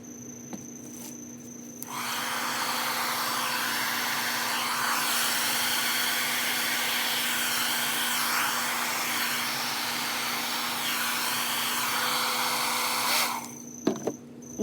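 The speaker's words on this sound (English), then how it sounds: "I'm using my blow dryer to spread the white base paint on my canvas." A blow dryer spreading white base paint mixed with Floetrol and water across a canvas for a Dutch pour, a loud steady whooshing hum that switches on after two seconds and runs unbroken for about eleven seconds before cutting off.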